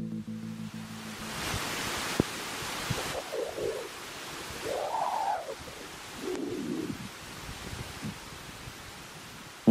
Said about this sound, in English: What you're hearing is the sound of millions of tiny invisible particles called neutrinos.